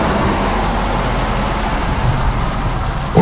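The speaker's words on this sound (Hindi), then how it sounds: "बारिश से बचने के लिए छाता खोलता है" Heavy rain pours down in a dense, loud, steady hiss that stays constant from start to finish, with no voices.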